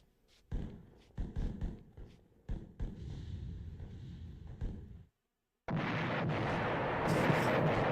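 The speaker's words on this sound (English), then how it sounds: "Fucking explosion." A rumbling series of explosions and bursts from the video game Dark Souls: Remastered, several sharp booms followed by a brief silence and then a dense, sustained roaring blast, loud and alone without talk.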